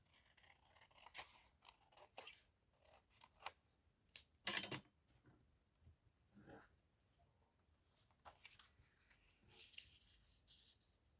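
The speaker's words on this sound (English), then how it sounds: "Just going to take off that white with my scissors." Quiet snips of scissors cutting paper close by, a series of short crisp cuts with soft rustling between them.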